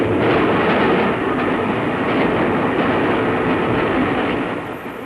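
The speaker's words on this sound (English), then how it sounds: "now, at this moment, L.M.S. trains are starting on their journeys" A vintage L.M.S. steam train runs on rails with a loud, steady rumbling roar and faint clattering, continuous and close throughout before easing slightly at the end.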